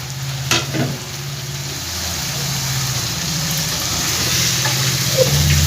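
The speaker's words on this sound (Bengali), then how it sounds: "মশলার সাথে ঝিঙেগুলো কষিয়ে নেবো" Ridge gourd sautéing in a pan of fried spice paste and oil, a steady close sizzle with a few stirring scrapes near the start, continuous and unbroken throughout.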